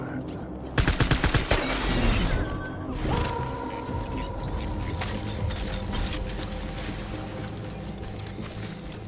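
Gunfire in the video game Death Stranding: a sharp burst of rapid automatic shots early on, followed by sustained clattering combat noise, mechanical sounds and a steady background hum at moderate loudness.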